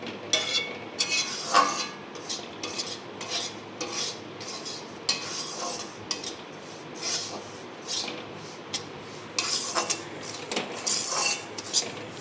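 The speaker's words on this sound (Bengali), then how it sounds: "দেখো কত সুন্দর ভাজা হচ্ছে।" Grated coconut roasting in semolina and ghee in a pan, heard as continuous close scraping and stirring with a spoon against the metal, with irregular clinks and rasps and no voices.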